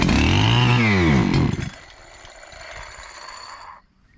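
A Holzfforma G372XP chainsaw needing a carburettor tune runs loud and close at high revs, then drops abruptly to a rough, lower idle that fades and cuts out near the end.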